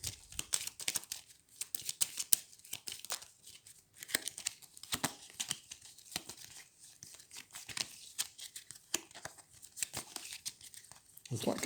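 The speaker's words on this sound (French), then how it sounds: "J'ai plus assez de cartes, je mélange." Star Realms game cards are shuffled close by as a quiet, continuous run of crisp papery flicks and rustles in uneven bursts, with no talk.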